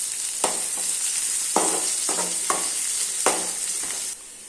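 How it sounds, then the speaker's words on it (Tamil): Onion frying in oil in a pan for egg biryani, a steady soft sizzle broken by several sharp scraping stirs of a spoon against the pan, close and clear with no talking. "நைஸாக கட் பண்ணி வச்ச ஒரு பெரிய வெங்காயம், இதை பொன்னிறமாக வறுத்து தனியாக எடுத்து வச்சுக்கலாம்."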